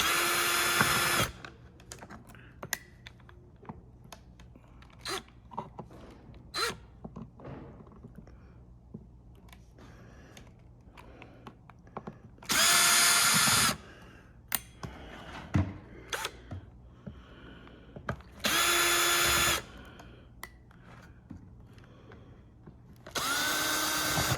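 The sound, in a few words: screwdriver unscrewing a gun armory tool casing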